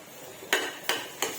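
Ridge gourd curry stirred in a pot with ginger-garlic paste: three sharp metallic clanks of a spoon against the pot, evenly spaced, over a quiet background.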